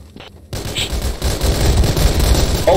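Rapid automatic gunfire in Garry's Mod, loud and close, erupting after a short quiet start and continuing as a dense, sustained volley against a BMP.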